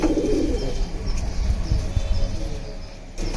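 Pigeons being paired for breeding coo softly and steadily at close range, low murmuring calls repeating over a constant background rumble.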